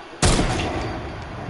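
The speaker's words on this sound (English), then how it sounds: "There's a sniper. Someone's just shooting." A single loud sniper shot in a video game, sharp close crack followed by a long rolling echo that fades slowly, with no talk over it.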